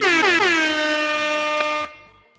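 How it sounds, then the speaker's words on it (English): A loud air horn blast, a single sustained blaring tone that holds for about two seconds, then cuts off with a brief fading tail. "Hey, Chris, give them air horns."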